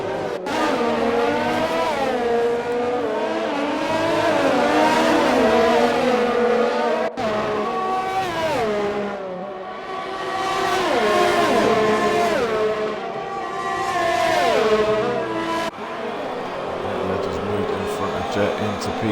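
Racing cars in a Mexico Grand Prix video game race, their engines whining up and down through gear changes in long sweeping revs, heard under steady commentary.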